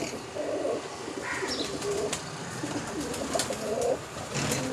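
Pigeons coo in low, rolling calls at the Uluberia pigeon market in Howrah, several birds overlapping over a constant crowded background hum with occasional chirps.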